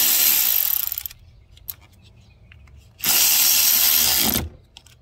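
A power tool loosens a nut on a 2018 Toyota Sienna during tow hitch wiring work, two loud sustained bursts about a second long each, separated by a quiet gap with faint clicks.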